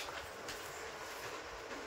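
Steady rumble and rattle of a moving local commuter train in rain from inside a carriage, constant and fairly loud with faint clickety-clack throughout.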